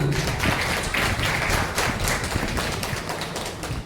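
Sustained applause from an audience at a Tamil cultural festival attended by a minister, dense clapping held at steady loudness for the whole stretch, tapering slightly at the end, with no talk over it.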